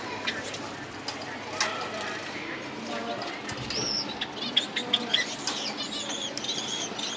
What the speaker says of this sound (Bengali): মোটামুটি সবাই গোসল করতেছে গোল্ডিয়ানগুলো বাকি যে পাখিগুলো আছে সেগুলো